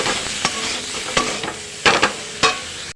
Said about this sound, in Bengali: যে তেলটা ছেড়ে দিয়েছে এবার আমি ভাপানো ফুলকপিটা দিয়ে দিলাম